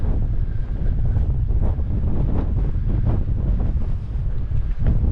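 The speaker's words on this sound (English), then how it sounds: "Gets a proper beating from the wind," Strong gusts batter the microphone on an exposed island beside an old tiled building, a loud, continuous roaring buffet with no voices.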